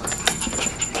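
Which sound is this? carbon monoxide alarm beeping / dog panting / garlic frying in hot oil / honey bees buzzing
dog panting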